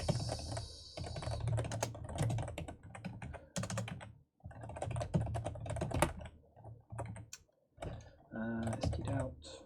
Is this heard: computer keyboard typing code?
yes